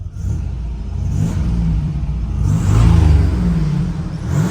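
A 1989 Pontiac Turbo Firebird Trans Am engine revs up close, a low rumbling idle swelling into a louder rev and easing back, with no talking.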